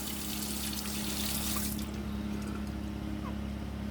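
A shaving razor is rinsed under running water, giving a steady close trickle and splash that eases off partway through, with no talking.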